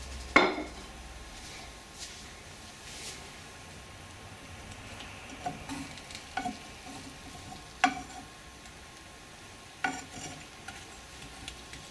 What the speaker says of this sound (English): Now let's transfer the paratha, the defrosted paratha, onto the pan.